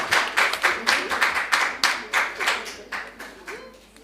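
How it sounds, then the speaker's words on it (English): A small audience claps after a cross-examination segment at a formal debate event, a brisk round of evenly spaced, close hand claps that slowly tapers off. "Yes, a round of applause."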